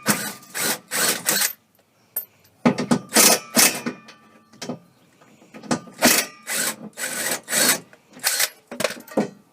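A ratchet wrench backs out trunk bolts holding a support brace on a 2005–2009 Mustang, heard close as several separate bursts of rapid clicking with short quiet gaps between them.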